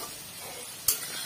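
Potato pieces fry in oil, a brief steady hiss with a short sharp crackle near the end, faint and with no voices.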